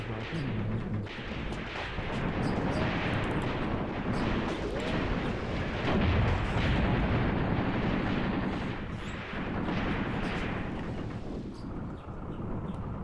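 Artillery barrages in a modern war video game set in Africa, with a South African force assaulting an Angolan base: continuous rumbling booms and crackling gunfire at mid distance, with occasional quieter voices underneath.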